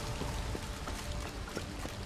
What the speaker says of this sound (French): la cascade qui descend